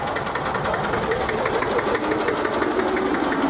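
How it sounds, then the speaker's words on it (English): A Deutz farm tractor engine runs steadily at a classic car meeting, a loud, close, continuous idle with a knocking rumble and people talking nearby. "And here farming tractor from Deutz."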